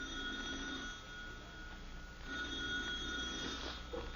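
A telephone rings at night in a quiet dark house in a 1953 sitcom, its faint, steady tone sustained over low hiss with no voices.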